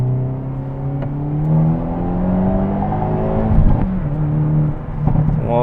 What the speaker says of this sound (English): We're gonna do a second gear pull here for you guys to show you the torque.